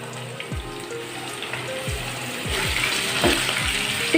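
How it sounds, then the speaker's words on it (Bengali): Marinated baim eel fish frying in hot oil with bay leaves, a continuous close sizzle that grows louder partway through, broken by several dull thuds and scrapes as pieces are moved in the pan. "তেল গরম হয়ে গেলে দিয়ে দিচ্ছি তিনটি তেজপাতা এবার দিয়ে দিচ্ছি মাখানো মাছগুলো"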